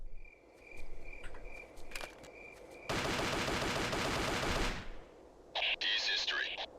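Rapid pistol gunfire in the Ghost Recon video game, a dense burst of shots lasting about two seconds in the middle, with faint chirping game ambience before and a brief noisy burst after.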